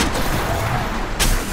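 A Kraber sniper rifle fires once in Apex Legends, a single sharp, loud blast near the end, heard over a continuous dense wash of game noise.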